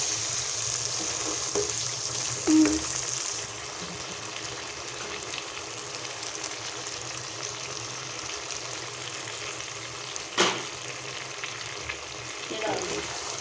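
Whole and chopped chillies fry in a chicken karahi with a steady, soft sizzle, broken now and then by a few faint clinks from the pan or a utensil.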